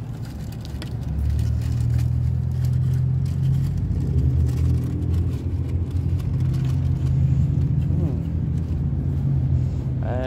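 Husqvarna YTH riding lawn mower engine rumbling close by, throttled up from a lower idle to a steady louder drone that holds for several seconds, with people talking over it.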